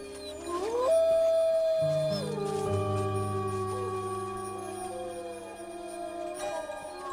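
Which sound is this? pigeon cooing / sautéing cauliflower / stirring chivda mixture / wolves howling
wolves howling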